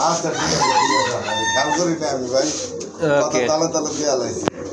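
Racer pigeons and other fowl at a busy pigeon market coo and call in short overlapping bursts, close by and mixed under the voices of people talking.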